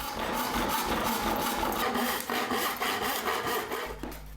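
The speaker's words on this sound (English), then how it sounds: "I'm just going to rip it with a handsaw" Handsaw ripping through pallet wood, a steady run of rasping strokes in a close, even rhythm that fills the clip, loud and near with no talk.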